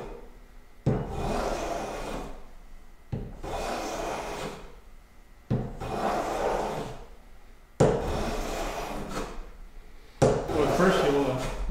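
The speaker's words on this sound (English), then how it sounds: "I like to apply some wax to the sole" Candle wax rubbed onto the sole of a woodworking hand plane, heard as five separate dry scraping strokes, each lasting about two seconds with short pauses between, fairly close and moderately quiet.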